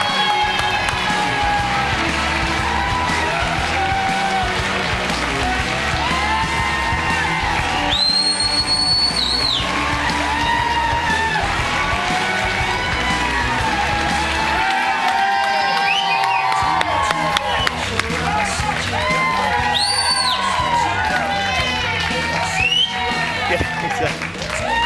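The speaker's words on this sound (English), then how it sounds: "Make some noise for our judges." A TV studio audience on The X Factor cheers, screams and whistles loudly for the judges, a dense continuous roar with sharp shrill whistles rising above it and a host's voice briefly heard.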